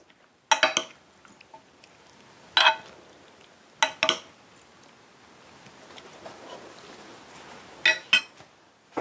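Chana chaat ingredients with green coriander chutney being mixed in a bowl, a few sharp clinks and scrapes of a spoon against the dish spaced out over a quiet background.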